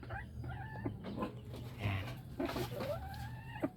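Soft, irregular clucks from a nearby Rhode Island Red hen, scattered over about four seconds with a steady low hum in the background.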